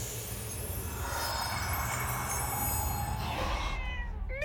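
A cat meows at close range, a drawn-out cry heard alone over a steady background hiss.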